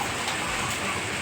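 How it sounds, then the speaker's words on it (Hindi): Heavy rain on a journey makes a steady, loud, unbroken hiss with no gaps, like a downpour drumming on a vehicle. "एकदम मस्त जम के बारिश हो है"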